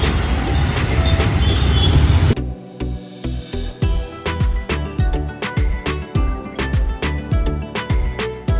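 A suburban commuter train in Mumbai rumbles along with a rhythmic clickety-clack of wheels over rail joints, loud and close from inside the carriage, after a brief burst of busy platform noise at the start.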